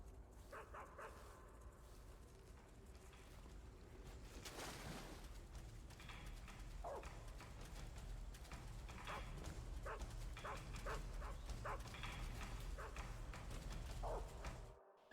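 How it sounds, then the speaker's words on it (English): Dog barks from the stealth game Metal Gear Solid 3 sound as a run of short, repeated yaps and woofs over a steady game background hum, fairly close and recurring through the second half. "Bark, bark, bark."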